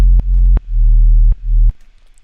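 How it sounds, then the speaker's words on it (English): A sub bass synth layer playing a simple sine wave: three deep, smooth, sustained notes, each with a soft click at its start, then a short silence. "the low layer, which is the sub bass that sounds like this"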